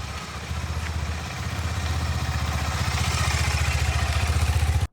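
A new KTM 390 Adventure motorcycle engine starts and settles into a close, rhythmic single-cylinder idle, steady thumping pulses that grow slightly louder before cutting off abruptly.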